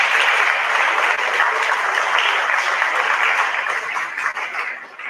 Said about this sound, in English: Let's start with a round of applause for everybody who made this happen.